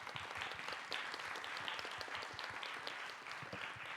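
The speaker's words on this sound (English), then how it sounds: "So I would like to invite everyone to give a huge applause to the speakers." Audience applause for the speakers at a plenary session of an academic summit on diamond open access, dense steady clapping from a crowd lasting throughout without talk.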